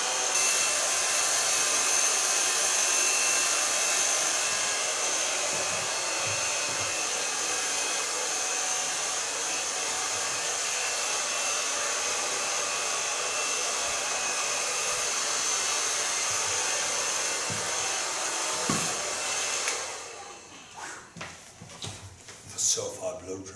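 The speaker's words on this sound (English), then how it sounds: "So far blow drying." A hair dryer blows loudly and steadily while blow drying hair in a salon, a constant high rushing hiss that cuts off near the end, leaving scattered handling clatter.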